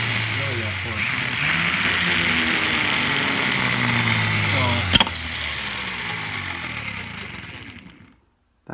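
A Honda Goldwing GL 1100 starter motor spins on direct battery power, a steady loud mechanical whir with shifting tones that runs for several seconds, a brief click partway, then cuts off abruptly; a voice talks over it.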